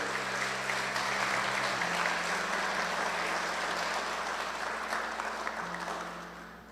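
A congregation applauds at a church service, broad sustained clapping over a steady low tonal hum, holding loud and gradually tapering near the end.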